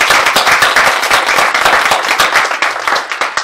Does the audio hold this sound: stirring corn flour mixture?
no